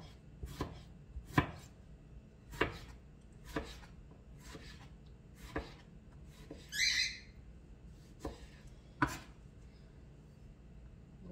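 A knife chops tomatoes on a cutting board in a home kitchen while oxtail in tomato sauce is being prepared: about a dozen crisp, isolated taps at an irregular, unhurried pace, close and fairly quiet, with a brief squeaky chirp midway.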